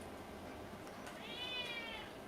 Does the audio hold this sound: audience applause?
no